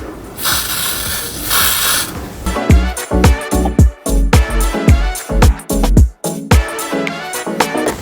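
Two long hissing bursts of aerosol hair spray (Got2b Glued Freeze Blast) up close, followed by a run of rapid ratcheting clicks and mechanical clatter.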